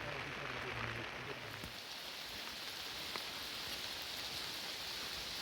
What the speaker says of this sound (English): You see the rain in sheets.